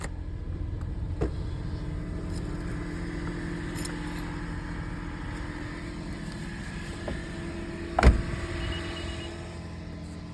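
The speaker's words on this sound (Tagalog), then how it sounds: "Start ko muna itong sasakyan dahil malamig to para maging mainit sa loob." A car engine idling to warm up in the snow in Japan, a steady low hum with faint clicks and one sharp knock near the end, no talking.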